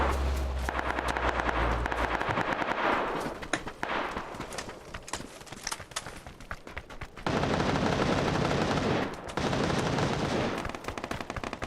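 Gunfire in PUBG, with heavy bursts of automatic shots and scattered single cracks, loud and continuous, and a couple of sustained volleys near the end.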